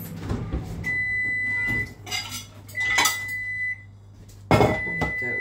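Plates and cutlery clatter in a home kitchen as dishes are pulled out, with several sharp clinks and scrapes coming close by in bursts, and a loud clattering knock near the end.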